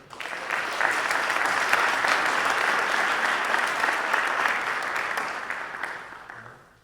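An audience claps steadily at a high school winter varsity athletics awards night, the applause swelling quickly, holding even for several seconds, then tapering off.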